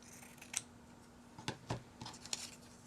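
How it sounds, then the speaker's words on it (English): Scissors snip a narrow strip off a piece of fabric for a paperclip pen holder, making a few quick, close cutting clicks spaced irregularly over a quiet room. "I will cut off a little strip of this"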